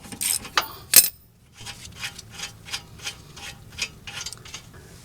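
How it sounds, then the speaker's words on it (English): A long-handled 3/8 drive socket wrench on the brake bolts of a 2014 Hyundai Accent, a few sharp metallic clicks followed by a steady run of quick ratcheting ticks, close and clear with no talking. "This is a real handy long-handled wrench I picked up, a long-handled socket wrench."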